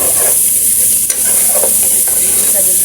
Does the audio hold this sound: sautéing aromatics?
yes